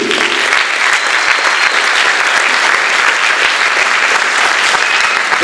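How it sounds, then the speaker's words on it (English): Loud, dense applause from an audience at a jazz camp performance, a continuous roar of clapping that stays strong and even throughout, close to the listener. "A round of applause for them, please."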